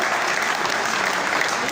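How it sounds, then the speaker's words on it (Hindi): A political rally crowd applauds in a dense, steady roar of clapping throughout the short stretch, close and continuous. "कम से कम तालियों की गड़गड़ाहट से नरेंद्र मोदी को धन्यवाद तो दें।"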